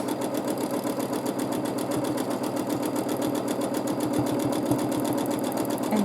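A sewing machine stitches a swirly free-motion quilting element on a scrappy quilt, giving a steady, close, continuous rapid needle clatter with a faint motor hum and no talk.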